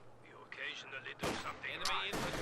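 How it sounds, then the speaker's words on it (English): Sharp gunfire from a sniper picking off Obersoldaten in a World War II strategy game, a couple of loud cracks with busy battle noise after the midpoint, heard over a steady game background. "Sniper taking pot shots at these Obersoldaten."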